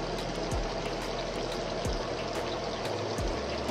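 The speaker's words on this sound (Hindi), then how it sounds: "अब मैं इसके अंदर डाल लगी हूँ पानी" Water pours steadily into a cooking pot for two cups of rice, a continuous close splashing stream lasting several seconds with a few soft thuds, and no one talks over it.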